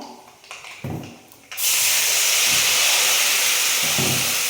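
Dissolved batter poured into hot oil with fried dal and chillies sets off a sudden loud, steady sizzle that carries on without a break, after a few soft clattering handling noises.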